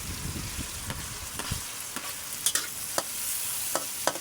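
Tomato and onion sauté in oil left over from frying galunggong fish, giving a steady hiss from the pan punctuated by sharp scrapes and taps of a spatula against the pan at irregular intervals.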